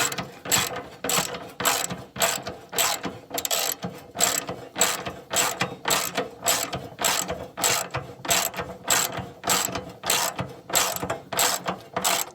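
Rapid ratchet clicking from tightening a 10mm non-structural bolt while installing a front swaybar on an R56 Mini Cooper S, steady bursts of close, crisp clicks repeating through the whole stretch.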